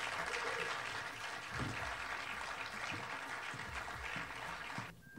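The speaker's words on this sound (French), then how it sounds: "Mesdames et messieurs, je vous prie d'applaudir Françoise Elong" Warm, sustained audience applause at a film awards ceremony, steady and fairly distant for about five seconds before cutting off abruptly.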